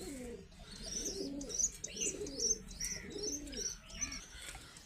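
Racer pigeons kept in a home loft call nearby with soft, repeated cooing, mixed with higher chirps and tweets from other birds throughout; no one speaks.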